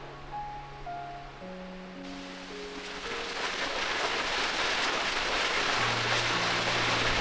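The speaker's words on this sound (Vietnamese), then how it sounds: "Dạo này thời tiết bất thường quá, đang nắng mà trời lại đổ mưa ngay về rồi." Heavy rain with strong wind sweeps in over a rural home, a dense, steady hiss that builds from soft background into a loud, continuous downpour, with a low tone fading early on.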